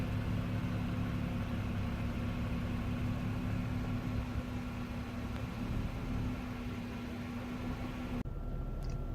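The 3.6-liter Pentastar V6 of a 2018 Jeep Wrangler JL idles with a steady low hum under faint broadband noise, then cuts off abruptly near the end.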